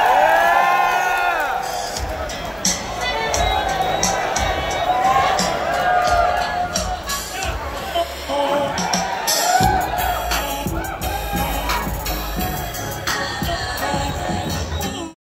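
A live convention audience at LTX 2019 breaks into sustained cheering, whoops and shouting, loud and dense throughout with crowd noise filling the space and scattered voices rising above, ending abruptly.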